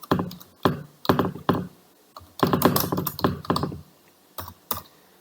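Keys clatter on a computer keyboard in quick bursts of close, crisp clicks with short pauses between runs of typing, then a couple of final isolated taps.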